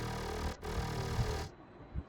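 A dry mid-bass patch from the Vital synth in a melodic dubstep production sounds as a harsh, buzzy, growling tone that cuts out briefly, returns, and then drops to a thinner, low rumble.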